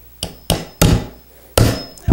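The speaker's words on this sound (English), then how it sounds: "you take the hammer and you find your place where you want to punch" A hammer strikes a tin can to punch holes in it, giving five loud, sharp metallic bangs at uneven intervals, each with a short ringing decay, close up and alone.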